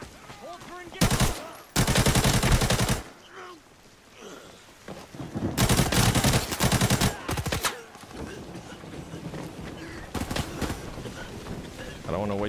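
Gunfire in the video game Arena Breakout comes in loud, long automatic bursts separated by quieter gaps, with players talking in between.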